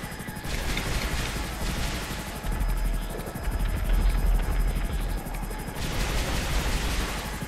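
A helicopter in GTA 5 Online thrums with steady, loud rotor chop and engine whine throughout, with bursts of gunfire-like crackle mixed in.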